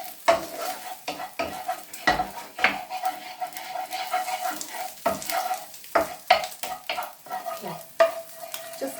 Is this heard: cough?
no